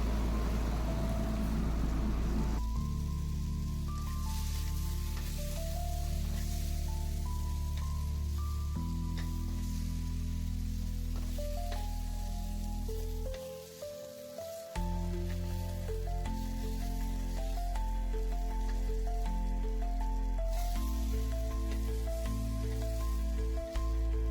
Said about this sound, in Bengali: আমার আলু কিন্তু বেশ ভালোভাবে ফ্রাই হয়ে গেছে